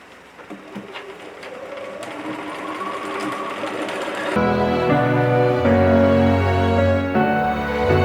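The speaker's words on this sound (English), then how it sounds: "So get this sorted out across the top, even, and stitch a straight stitch." A sewing machine runs a straight stitch across the top of a ticking fabric tote, starting with lighter clicks and then settling into a loud, steady, close hum; the bobbin thread is looping.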